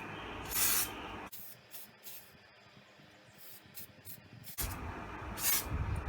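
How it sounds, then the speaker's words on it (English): Spray gun misting a table top from a distance, two bursts of hissing spray separated by a quieter stretch, fairly close and breathy. "I'm going to spray the side a bit from a distance."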